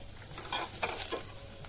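Grated pumpkin frying in ghee, a quiet sizzle with a few short stirring scrapes, close by.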